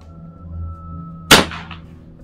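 One sharp, loud crack from a Grosvenor Tactical air rifle fired during an FPS test, sudden and close, with a brief ringing tail after a quiet steady hum.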